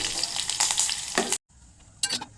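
Mustard seeds, green chillies and curry leaves frying in hot oil for a tempering, close crackling sizzle with a few sharp spluttering bursts, broken by a brief pause.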